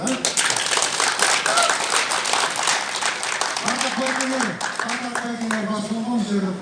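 Crowd applause for the Bakai district football organisers, dense steady clapping from many hands at an outdoor community gathering, continuing under a voice speaking loudly over it.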